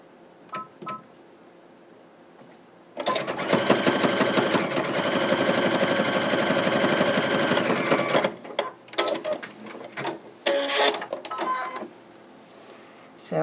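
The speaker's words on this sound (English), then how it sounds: "I'm going to sew it, and then I'm also going to put a little tiny zigzag over it as well" A sewing machine stitches a seam on finger pot holders, a loud continuous mechanical whir lasting about five seconds, followed by scattered clicks and handling sounds.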